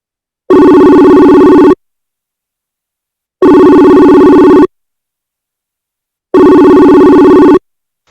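A telephone ring tone sounds three times in steady, evenly spaced bursts of about a second each, loud and alone with silence between, as a dropped call is restarted.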